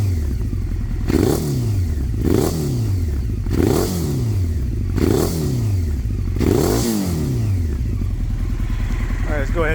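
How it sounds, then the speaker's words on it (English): A 1996 Honda 900RR Fireblade's engine idles and is blipped in five evenly spaced revs, each rising sharply and falling back, loud and close. "let's give her a few revs"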